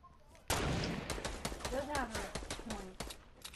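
Fortnite gunfire erupts suddenly into a dense, close flurry of rapid shots and impacts, with a voice speaking under the shooting partway through.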